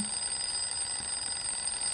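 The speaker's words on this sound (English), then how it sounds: "I can't concentrate with this ringing." A steady high-pitched ringing continues without a break during an online DayZ event, thin and constant with no voices over it.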